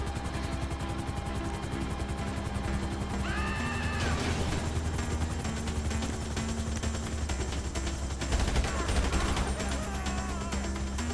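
Distant, muffled gunfire pops beneath a constant engine roar during GTA 5 Online gameplay, with a crash near the end and dense game noise throughout.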